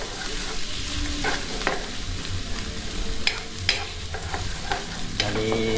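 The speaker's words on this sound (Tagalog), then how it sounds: "sigigisa natin para mas masarap mga kapatid" Food sautéing in a well-used frying pan, a steady loud sizzle with scraping stirring strokes and occasional clinks, close up and continuous.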